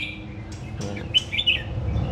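A caged pet songbird in a Vietnamese bird collection sings a few short, bright chirping phrases at close range, over a low background hum with no talking.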